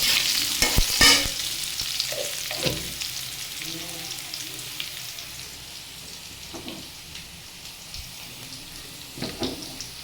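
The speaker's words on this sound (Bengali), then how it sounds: "এখন আমি এই যে ডালটাকে এই সবজির ভিতরে ঢেলে দেবো।" Fried lentils tipped into a pan of vegetables with salt and turmeric, landing with a burst of sizzling followed by steady frying hiss and scraping stirs, close and fairly loud at first, then settling.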